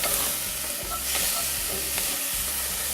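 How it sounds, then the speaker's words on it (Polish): Steady close-up sizzle of onion and garlic frying in butter, with a few scraping stirs of a utensil against the pan and no talking. "Smażymy to wszystko dosłownie minutę."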